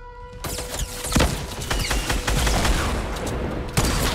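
Rapid bursts of video game gunfire crackle close and loud, with sharp shots fired in quick clusters and a few heavier bangs standing out over the few seconds.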